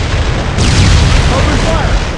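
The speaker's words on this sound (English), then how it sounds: "Incoming artillery! Take cover! That's no ordinary artillery fire." Laser-guided artillery shells exploding in Killzone on PS2, a sustained loud rumbling blast with a sharp onset partway through, filling the whole clip.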